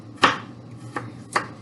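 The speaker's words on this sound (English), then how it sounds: "I'm going to cut them in smaller chunks." Three sharp knife chops through leeks and potatoes on a chopping block, close and distinct, the first loudest, with no one speaking.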